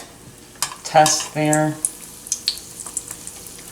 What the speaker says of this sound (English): You can hear that oil sizzling.